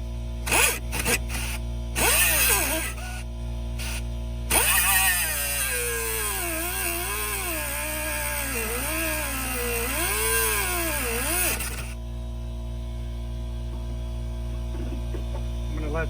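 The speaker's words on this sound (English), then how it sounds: "I'm going to let the air compressor build up pressure." A small air compressor hums steadily and loud for about twelve seconds while repairing a Wheel Horse mower deck, its tone wavering as pressure builds, after a few brief clatters of handling at the start, then cuts off into a quieter mains hum.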